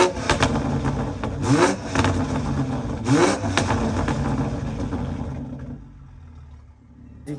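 Loud car engine with big wheels and an aftermarket exhaust revs hard several times, throaty exhaust roar rising and falling close by before settling to a quieter idle.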